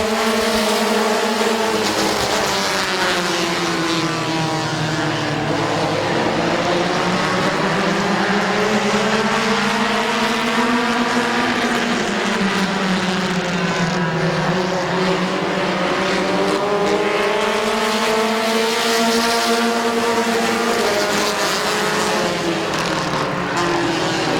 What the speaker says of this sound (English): 10-lap heat race number 1, and we're green